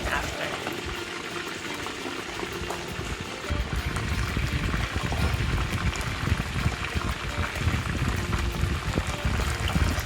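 Chicken fries in hot oil with a dense, bubbling sizzle that grows louder and fuller a few seconds in, then holds steady and close.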